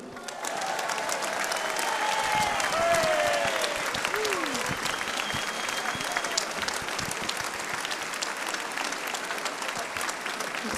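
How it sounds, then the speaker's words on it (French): Warm, sustained applause from a large festival audience in the Occitan region, a thick even wash of clapping lasting several seconds, with faint voices and a brief whistle-like tone over it. "J'appelle à mes côtés et je vous remercie d'avance de lui réserver de chaleureux applaudissements Isabelle Iturburu."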